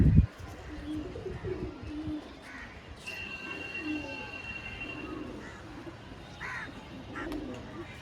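Paired pigeons with yellow bands coo softly in a busy loft, low murmurs at moderate distance, while other birds call faintly and a sharp knock sounds at the start.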